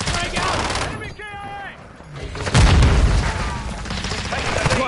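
Video game gunfire from a military shooter with bursts of rapid shots and heavy booms, loud and continuous throughout, mixed with game radio chatter and voices.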